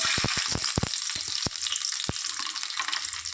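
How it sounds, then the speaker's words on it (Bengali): Nigella seeds, dried chillies and garlic hitting hot oil for a tempering, a loud continuous sizzle with a rapid series of sharp spits and pops clustered in the first second and a half, then fewer scattered crackles. "তেল বসিয়ে দিয়েছি, হাতে নিয়েছি একটু কালো জিরে, তেলের মধ্যে ফোড়নটা দিয়ে দিলাম"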